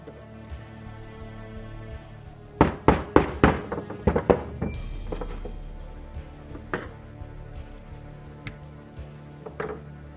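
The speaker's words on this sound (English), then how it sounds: "So take a little hammer." A small hammer taps metal in a quick run of sharp strikes, tapping out a pin from an airsoft gun, followed by a few scattered, lighter taps close by.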